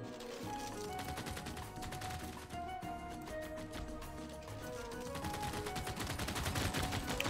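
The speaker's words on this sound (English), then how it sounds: "Lots of gunshots going on" Rapid bursts of gunfire from a Civilization VI battle involving Germany crackle continuously at low volume, layered over a busy game soundscape.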